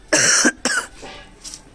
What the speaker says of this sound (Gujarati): થોડીક ઉધરસ થઈ ગયેલી છે